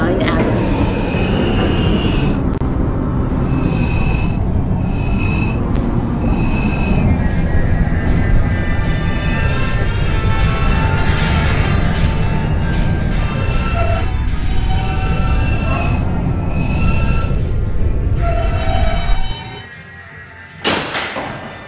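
A Roblox R160B Alstom subway train on the Q line runs with a loud, steady rumble and wheel noise that carries through about nineteen seconds. A brief pause follows, then a thump near the end.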